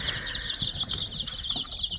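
Young Maran and Wyandotte chicks in a brooder chirp continuously in a dense, high chorus, with soft wing flutters and small scuffles close by.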